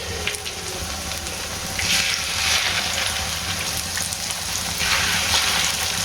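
Chicken chapli kabab fries in a pan with a steady, fairly loud sizzle. The sizzle swells slightly at times and no one speaks over it.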